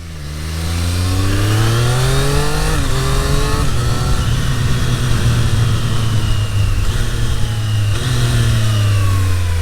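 A 2023 Triumph Street Triple 765 RS motorcycle accelerates hard, its engine note climbing through the revs, briefly dropping on a gear change and then rising again, loud and close throughout with no talking.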